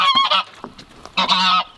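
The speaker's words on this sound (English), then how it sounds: "how are you gonna get out without getting bit by that goose?" A goose honks loudly and close by, two bursts of harsh nasal calls separated by a brief gap, with no voices over them.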